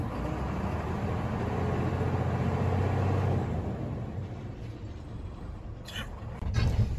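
A Hino truck with a J08C diesel engine idling and being given throttle, a low steady rumble that swells slightly, close by, with a brief clatter near the end.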